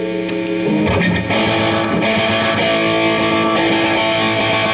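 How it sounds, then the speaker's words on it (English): Distorted electric guitar playing steadily through a 1950s-style slapback delay, each note followed by a quick, tight echo, loud and continuous with no talking. "I have that set on like an old 50s kind of delay"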